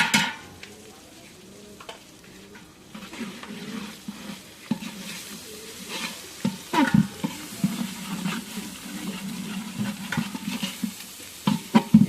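Spices frying in a pot on a clay stove for chicken and vegetable khichuri: soft steady sizzling with scraping stir strokes and occasional clinks, close and fairly quiet.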